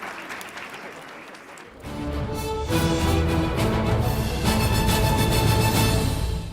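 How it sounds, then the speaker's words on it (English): A crowd applauds a children's choir at a teachers' awards ceremony, clapping building from sparse hands into full, sustained applause that fills the hall, with some voices mixed in. "a final round of applause for the Voice of Peace Children's Choir"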